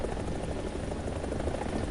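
Helicopter engine and rotor in the War Thunder video game, a steady dense droning whir that holds at constant loudness for the whole stretch with no talk over it.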